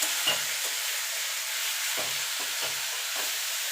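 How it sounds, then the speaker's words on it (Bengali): Bottle gourd peels fry over high heat in a pan, a constant loud sizzling hiss broken by several short scraping stirs of a spatula, heard close with no speech. "প্রথমে কিন্তু হাই গ্যাসটা কিন্তু জোরে রেখে কিন্তু ভাজাটা ভাজতে হবে"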